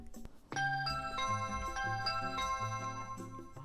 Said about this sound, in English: Then you hear the doorbell ring.